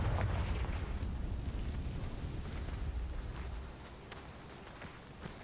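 A blasting spell bursts in a fantasy wizarding video game, a loud, deep rumbling explosion that decays slowly into a low roar with scattered crackles.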